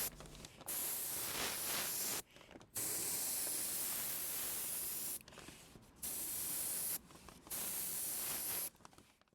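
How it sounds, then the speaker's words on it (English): An airbrush sprays royal blue and black dye onto leather in bursts, a close, steady hiss that starts and stops several times with short quiet gaps between. "For dyeing I used my airbrush and starting with some royal blue as base coat"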